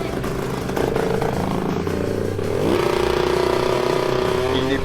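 A Polish two-stroke racing motorcycle at the Radom circuit revs loudly and close, its buzzing engine pitch climbing sharply partway through and then holding high and steady.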